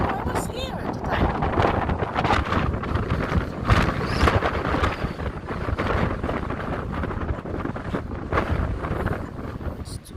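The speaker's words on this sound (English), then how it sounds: "It's too windy." Strong wind roars across the microphone outdoors in loud, uneven gusts that persist for about ten seconds, with people's voices partly buried beneath it.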